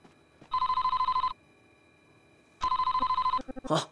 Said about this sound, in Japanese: あ、電話だ。